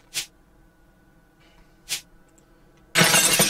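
Glass breaks during a train station renovation: two sharp cracks a couple of seconds apart, then a loud, sustained crash of shattering glass.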